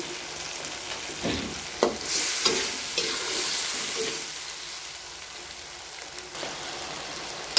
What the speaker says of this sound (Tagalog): haluin lang haluin hanggang maluto yung kamatis bago natin ilagay yung isda